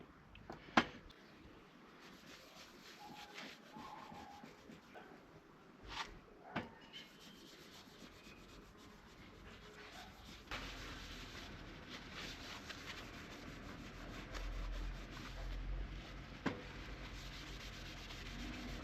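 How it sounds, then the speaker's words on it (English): Quiet hand polishing of a restored bill hook, soft rubbing and sanding strokes with a few faint knocks, steadier friction noise later, no voices. "Now I think we're ready for the final polishing, and she'll be good."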